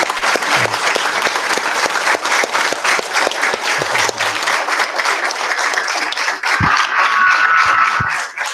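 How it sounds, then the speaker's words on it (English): Retreat participants give sustained applause, loud dense clapping from many hands that carries on for several seconds before it thins toward the end. "Now we can clap for all of you."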